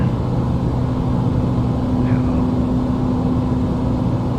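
Steady droning hum of ATR-72 turboprop engines in a flight simulator game, a constant even engine tone running throughout with no change in pitch.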